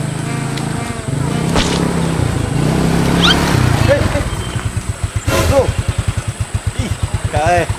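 A motorcycle engine idles and runs up close, a pulsing rumble that turns into a rhythmic chugging toward the end while people talk over it.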